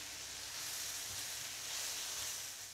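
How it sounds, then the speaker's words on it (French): Sweated vegetables and salted spinach shoots cook in a pan for a soup, giving a soft, steady sizzle and hiss with no talk. "j'ajoute la moitié des pousses d'épinards, je sale, et je vais laisser cuire une minute."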